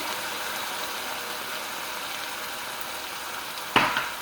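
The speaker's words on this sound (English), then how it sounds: "We're going to deglaze the pan." Wine and lemon juice hit a hot pan to deglaze it, giving a steady, even sizzle that carries on throughout, followed near the end by a single sharp clack of a utensil against the pan.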